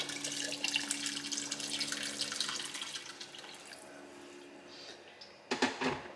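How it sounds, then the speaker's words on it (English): Water poured from a tap into a cooking pot of Jamaican-style oxtails, a close, steady splashing rush that fades into quieter trickling, then a brief sharper splash at the end. "Here I'm adding more water to top it off, because we're nowhere near tender yet."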